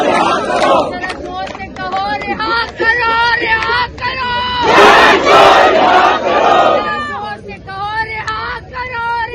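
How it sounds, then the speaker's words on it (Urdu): A crowd outside Adiala jail chants political slogans in loud rhythmic unison, with a leader's voice calling out lines and the group answering, a surge of shouting mid-clip. "اور نعرے کیا لگ رہے ہیں وہ بھی ذرا سنیے"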